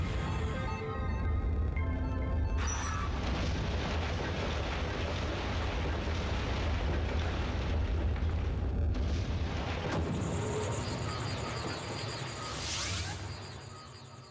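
In Pokémon Snap, a Magnemite explodes with booming, rumbling blasts and whooshing bursts over a continuous loud game soundscape.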